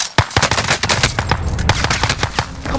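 Rapid automatic fire from an STG 44 rifle in Call of Duty Warzone, a close, loud burst of sharp repeated shots spaced unevenly across about three seconds.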